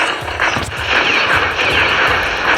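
Rapid gunfire from a transformer robot in the Roblox game rattles in repeated bursts over a dense, loud wash of game noise, with no talking.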